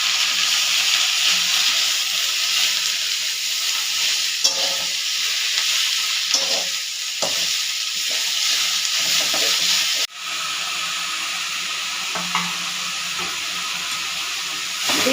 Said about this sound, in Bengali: কুমড়ো শাকটা ভালো করে ভাজা করতে হবে।